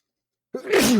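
A single sudden sneeze breaks a moment of silence, starting with a short intake and ending in a loud, close burst.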